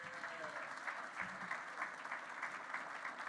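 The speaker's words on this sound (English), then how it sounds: "Let's give him another round of applause" At a conference session, a crowd claps in a steady, even round of applause that carries on without a break, with no voices standing out above it.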